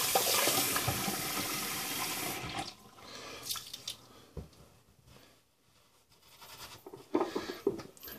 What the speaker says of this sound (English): just rinse it off a little bit